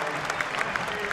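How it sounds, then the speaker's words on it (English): Crowd at an NCAA outdoor track and field championship applauding a women's 100m athlete's introduction, brisk clapping filling a short burst. "Listen to the crowd respond to her introduction."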